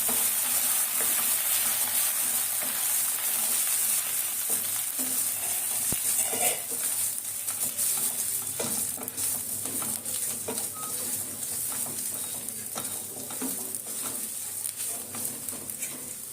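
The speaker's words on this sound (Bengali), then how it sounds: "এবার গোবিন্দভোগের চালটা দিয়ে দিচ্ছি, ভিজিয়ে রেখেছিলাম, তারপরে দিয়ে দিলাম।" Soaked Gobindobhog rice stirred in a frying pan, with a steady soft sizzle and scraping stirs close by, a faint bird calling in the background.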